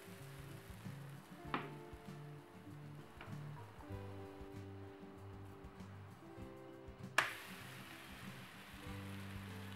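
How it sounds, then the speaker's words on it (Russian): Thin, runny blini batter fries in a 24 cm pan with a soft, steady sizzle and occasional crackles, faint beneath a tonal background layer. "Перемешиваем, и можно жарить блины."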